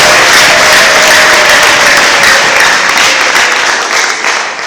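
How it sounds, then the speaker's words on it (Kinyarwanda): A church congregation at a blessing for newlyweds applauds loudly with dense, sustained clapping that fills the room and eases slightly at the very end. "Ongera uyikomera amashyi yishimye."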